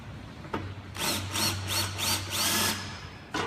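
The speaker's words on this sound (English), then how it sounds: "So then I've got a drill here" A power drill bores a starting hole in wood for a horseshoe cross project, with a brief tap, then a run of whirring bursts in steady pulses before a final short rev, close and alone.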